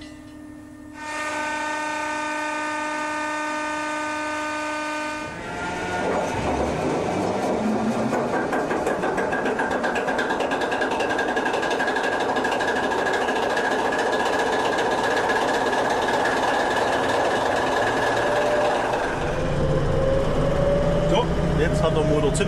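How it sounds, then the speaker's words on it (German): V300 diesel locomotive on the Wismut railway starting up: a steady tonal starter whine, then the engine fires and settles into a loud, rumbling, continuous run that rises near the end; someone talks over part of it. "Jetzt hat der Motor Zündung aufgenommen, jetzt läuft er rund."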